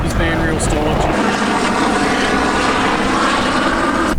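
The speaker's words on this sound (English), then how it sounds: "Still getting circled by the police helicopter." A police helicopter circling low overhead on a windy day, its rotor drone loud and continuous under heavy wind noise, with a voice faintly present.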